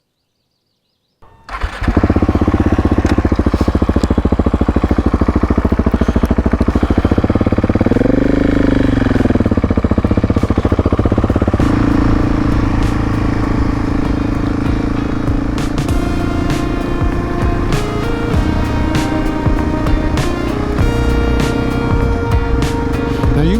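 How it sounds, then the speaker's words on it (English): A Husqvarna 701 single-cylinder motorcycle fires up and rides out on the road as an adventure bike, its engine loud and close, revving steadily with a rising swell of acceleration before settling into a continuous drone. "let's get out on the road and see whether or not the Husqvarna 701 can hold its own as an adventure bike"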